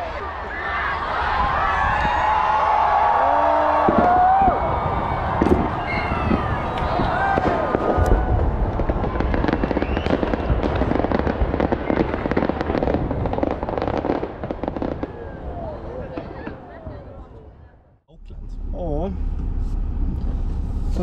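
New Year's fireworks burst in Auckland amid a continuous crackling roar, with crowd noise and passing traffic mixed in and people talking throughout; the din briefly drops out near the end, then resumes.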